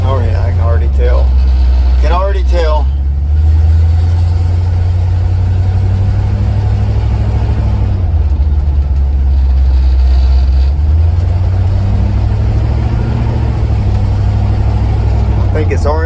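A 1976 Chevy square-body truck drives along a curvy driveway, its engine rumbling loud and steady with low-pitched surges and shifts, while someone talks over it.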